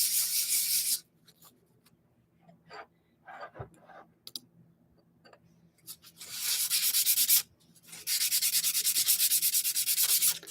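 Sandpaper of 120 grit rubs over a small wooden ornament in two long bursts of steady, close scratchy strokes, with a quieter gap of light taps and scuffs between them.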